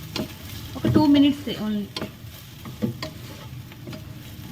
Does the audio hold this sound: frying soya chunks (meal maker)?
yes